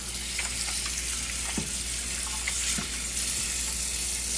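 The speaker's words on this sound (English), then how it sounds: "Always want to wash your celery. Nice cold water. Nice cold running water." Cold tap water runs steadily over celery stalks being washed at a kitchen sink, a continuous close splashing hiss with a few brief knocks as the stalks shift under the stream.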